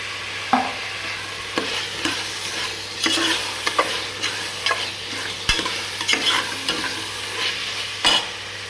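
Tomatoes frying in oil for mushroom biryani give a steady close sizzle, broken by intermittent stirring scrapes and knocks against the pan, with a low constant hum beneath and no talking.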